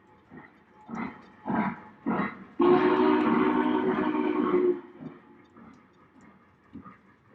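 A toy model train runs along its track with a few soft chuffing bursts, then sounds a steady, fairly loud whistle lasting about two seconds before returning to quieter running sounds.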